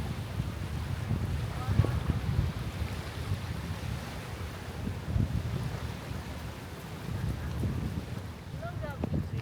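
Strong wind at Bulabog Beach, a windy parasailing spot, buffets the microphone with a continuous low roar. Surf washes faintly beneath it and voices come through intermittently.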